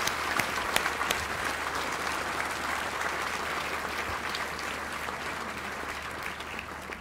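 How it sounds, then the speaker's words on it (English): A large audience at the Famelab International Final 2014 claps steadily for about seven seconds in a dense, sustained wash of applause, with no distinct beat standing out and no voices over it. "please clap your hands rhythmically and go all tingly for Dingley"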